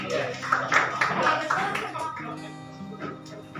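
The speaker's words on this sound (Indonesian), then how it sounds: "Beri aplaus untuk kita semuanya" A group in a school classroom session claps together for about two seconds, a dense burst of applause that fades as a voice begins speaking.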